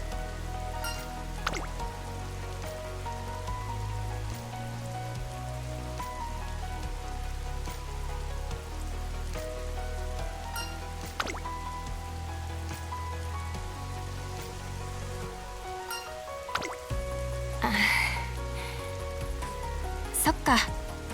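Steady rain falling in the video game Uma Musume Pretty Derby, a continuous wash of drops with occasional louder drips, heard throughout under background music.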